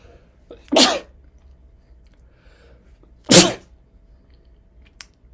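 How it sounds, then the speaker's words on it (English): Two loud, sharp sneezes a few seconds apart in an otherwise quiet room, followed by a faint click. "I'm about to sneeze."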